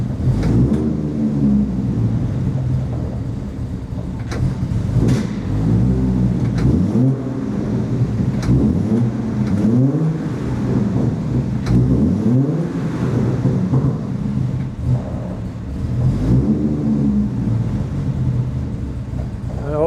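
A 1960s Volvo 164 engine alternates between a low idle and repeated revs, each rise and fall of pitch loud and close, the deep rumble continuous throughout.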